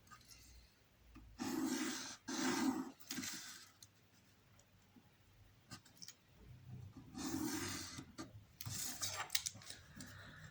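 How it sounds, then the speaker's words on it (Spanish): A pencil draws lines on paper to extend them for a protractor exercise, making several short, close scratchy rubbing strokes separated by quiet pauses. "Alargamos nuestras líneas para trabajar un poco más cómodo."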